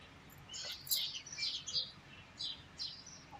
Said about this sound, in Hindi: सुबह सुबह मुर्गियों की आवाज़ें, चिड़ियों की, कौवों की कितनी अच्छी लगती है, परिंदों की आवाज़ें।